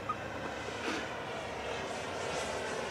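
A Grumman F8F Bearcat warbird on a high approach at an airshow, its piston engine a steady, fairly distant drone that swells slightly, heard outdoors with no talking.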